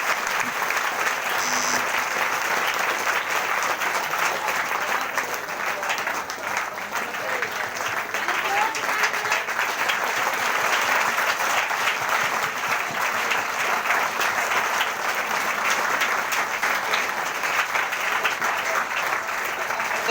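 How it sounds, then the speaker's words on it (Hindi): A congregation at a Saturday Christian prayer meeting claps loudly and steadily for a long, unbroken stretch, a dense wash of applause filling the room. "एक बार प्रभु की महिमा करिए जोरदार ताली से।"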